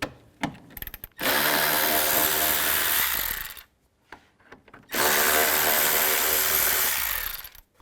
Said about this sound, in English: I'm going to use a T30 socket